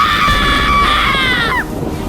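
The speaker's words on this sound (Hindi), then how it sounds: "फिर एक भयानक चीख गूंजी।" A terrifying scream rings out in a haunted mansion during a stormy night: one high, sustained shriek lasting about a second and a half that wavers and then drops off sharply at the end.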